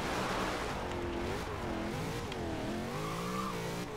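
Car drifting on asphalt in Forza Horizon 2 roars continuously at close range, the engine note rising and falling with revving while tires squeal through the slide.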